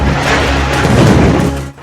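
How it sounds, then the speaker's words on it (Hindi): A loud, sustained rumbling blast of a wartime explosion, with dense crackling debris noise that fills the whole moment, then drops away sharply near the end. "हाहाकारी धमाका"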